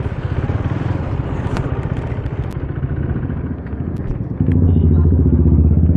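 A KTM Duke 390 motorcycle engine runs steadily up close, with a clattering, thudding low rumble that grows noticeably louder and deeper about two-thirds through, alone without talk.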